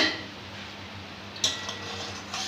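A lid comes off a pot of simmering fish curry with one short metallic clink, set against a low, steady background hum.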